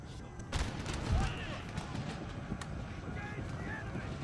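Artillery fire in the video game Empire: Total War, booming cannon shots at the start followed by a noisy battlefield din, with someone commentating over it in French.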